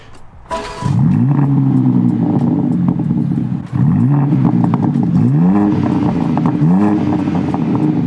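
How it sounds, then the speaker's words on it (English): A new BMW M4 engine cranks and fires up, then settles into a loud idle broken by several rising revs and falls, heard close and with no talking. "Should we start the engine? Let's do that bit now."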